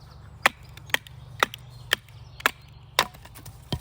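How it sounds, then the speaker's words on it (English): A knife blade being modified is tapped with sharp, evenly spaced knocks, about eight crisp wooden-sounding hits at roughly half-second intervals, close and moderately loud against a low background hum. "get a subtle knock here to get it back into the horizontal position"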